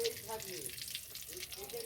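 Shrimp cutlets frying in hot oil in a home kitchen, a soft steady sizzle with faint crackles and occasional stirring clinks, fairly quiet throughout.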